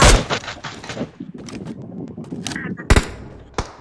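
Gunfire in the PUBG Mobile battle royale game sounds as several sharp, loud shots with short gaps between them, mixed with game sounds.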